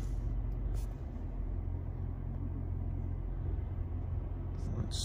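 2022 Toyota Tundra truck backing out, a low steady engine rumble at idle-like pace, moderately quiet and continuous, with faint outdoor background and no clear speech.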